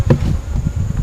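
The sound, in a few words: honeybees buzzing in a hive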